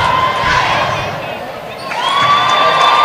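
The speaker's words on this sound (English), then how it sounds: "You could just feel the energy of Lone Peak fans in the crowd here just wanting something to happen." Girls high school basketball crowd cheering loudly in a gym, shouts and whistles swelling, dipping briefly, then rising again, with a commentator's voice over it.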